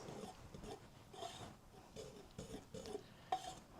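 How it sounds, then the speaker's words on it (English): Cocoa, baking soda and cinnamon are whisked together in a bowl, producing faint repeated scraping and clinking strokes in an uneven rhythm. "So I'm just going to whisk that together just to combine the dry ingredients."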